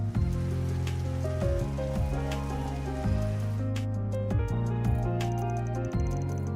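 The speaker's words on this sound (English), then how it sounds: "Looks like it's raining out." Rain falls outside in a video game scene as a steady patter of drops against surfaces. It plays along with a looping music bed that keeps sounding throughout.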